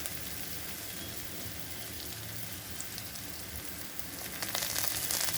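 Onions sizzling steadily in hot oil in a pan while a tarka dal is cooked, a continuous close crackling hiss that swells slightly toward the end.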